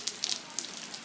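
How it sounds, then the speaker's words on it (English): August rain falling steadily outside a house, a soft continuous patter with scattered brighter drop hits, faint and close. "That's the rain from the house, Jade."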